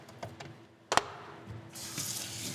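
Water runs and sprays while rinsing a Ford F-250 Super Duty truck, with a sharp clatter near the start, then a steady, fairly close hiss of spraying water.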